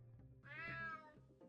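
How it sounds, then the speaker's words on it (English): A cat meows in the video game UnMetal, one drawn-out, clear meow lasting under a second and sounding fairly near, over a low steady game hum. "Damn cat."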